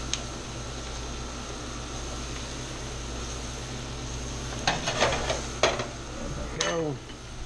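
Vegetables cooking in bacon grease with bourbon give a steady, close sizzle throughout, broken near the end by a few sharp clinks of utensils against a pan.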